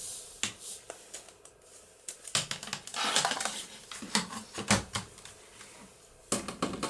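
Paper being cut down to length for window tags, with a series of sharp, irregular cutting clicks and snaps close by, no talking.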